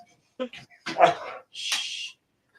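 A dog makes a few short yips and whimpers close by, ending in a louder breathy bark-like burst, while a person talks nearby.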